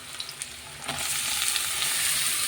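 Prawns frying in a pan with light stirring taps at first, then a loud, steady hiss of sizzling oil that swells and holds.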